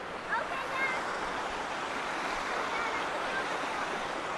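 An Appalachian mountain waterfall gives off a constant broadband rush of falling water, steady and fairly close, with brief faint voices mixed in.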